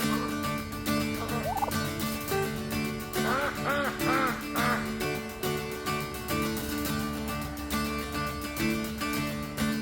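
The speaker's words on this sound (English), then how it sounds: "The ducks are excited about it." Excited poultry calls beside a pond being dug out, a busy overlapping chorus of honking and gobbling-like calls over steady background noise, with no talk.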